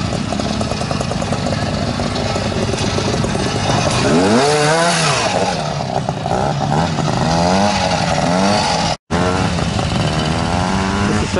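An Ariel twin-engine motorcycle at a classic pre-unit trial event revs hard and close, the engine note climbing and falling in bursts as it works through a section, loud and continuous.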